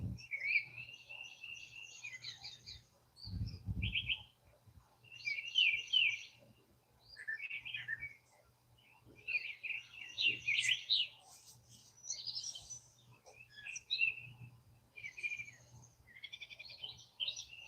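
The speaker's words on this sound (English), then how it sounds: "listen to them birds sing and have a good time." Birds sing at dawn in repeated bright, chirping phrases, some near and some farther off, with a faint low hum and a brief thump partway through.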